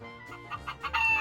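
Chickens in the Minecraft video game cluck in short, repeated bursts that grow louder and denser toward the end, alone without talk.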